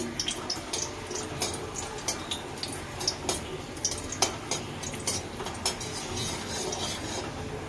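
Water goes into a cooking pan of rui fish over a dry red chilli tempering, a soft wet splashing dotted with repeated small clinks and taps from utensils against the pan.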